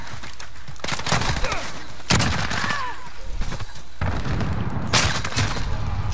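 Heavy bursts of shotgun fire in a video game, several loud booming blasts spaced irregularly across the stretch, with game noise in between.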